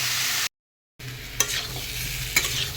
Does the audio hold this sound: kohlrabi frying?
yes